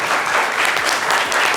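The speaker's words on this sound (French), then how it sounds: "applaudissements pour Jean-Jean, s'il vous plaît" A studio audience on a French radio show bursts into dense, loud applause, continuous clapping filling the brief moment with no voices over it.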